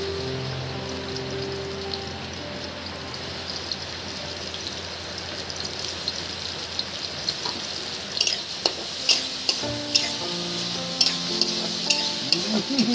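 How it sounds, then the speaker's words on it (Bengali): Chopped onions sizzle steadily in hot white oil in a pan for pasta, with a scraping stir and clicks of the utensil joining in over the last few seconds. "আর এবার দেখুন এর মধ্যে আমি এই যে কুচি কুচি পেঁয়াজগুলো দিয়ে দেবো।"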